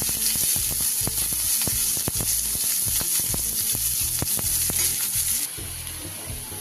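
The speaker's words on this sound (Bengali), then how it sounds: "এবার দিয়ে দেব আমি কুচনো পেঁয়াজ।" Chopped onion fries in hot oil for a chicken dopeyaza, a loud, steady sizzle with repeated stirring scrapes, easing slightly near the end.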